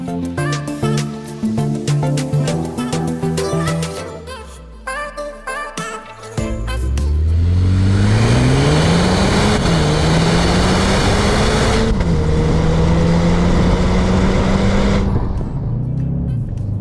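An Audi SQ2 with a 300 hp engine accelerates hard on a twisting road, its engine note climbing through the gears with rising pitch and a brief shift dip, loud and steady, after choppy mechanical clatter at the start.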